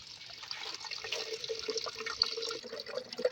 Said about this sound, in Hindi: यहाँ से भर लेते हैं पानी